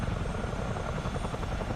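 CH-47D Chinook tandem-rotor helicopter in a flight simulator game, a loud steady rotor and turbine roar with a constant dense rumble and faint rhythmic blade chop, heard up close with no talk.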